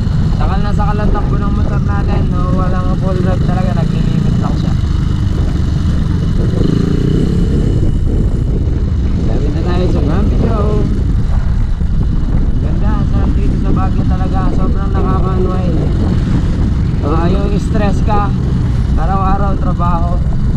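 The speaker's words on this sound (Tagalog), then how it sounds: "Takal na sakal ang takbo ng motor natin, no?" A motorcycle climbs toward Mines View in Baguio, its engine choked and unable to reach full power. A steady, loud engine drone and wind roar run throughout while a rider talks over it.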